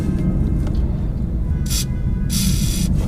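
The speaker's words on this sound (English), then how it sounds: "I'm gonna go ahead and spray some PB Blaster on these two bolts" Two short hissing spray bursts of PB Blaster penetrating oil onto bolts of a Dodge RAM 1500, the second longer, over a steady low rumble of background noise.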